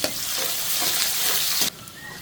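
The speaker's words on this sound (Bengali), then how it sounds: "তেল গরম হয়ে গেছে পেঁয়াজ দিয়ে দিলাম" Onions sizzle and fry in hot oil, a loud crackling hiss that drops off suddenly near the end, leaving a quieter background.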